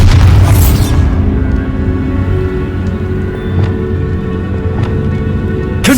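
A heavy blast from the Bombarda spell inside a tomb in Hogwarts Legacy, striking hard at first and then rolling into a loud, sustained rumble of falling debris with a few scattered cracks.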